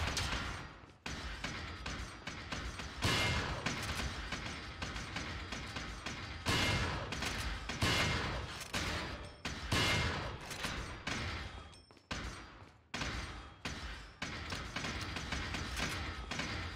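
Shotgun blasts in Resident Evil 4 boom out again and again, loud and close, with short gaps between the shots and dense game noise underneath.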